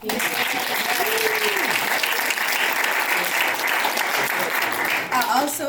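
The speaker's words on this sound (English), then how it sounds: "I just want to give another round of applause for Dr. Stewart and Dr. Serdikoff." An audience at a Savannah State behavior analysis celebration gives a sustained round of applause for Dr. Stewart and Dr. Serdikoff. The clapping is dense and even, with a few voices and cheers mixed into the crowd.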